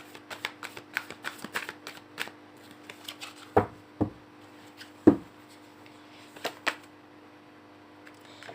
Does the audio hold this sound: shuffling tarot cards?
yes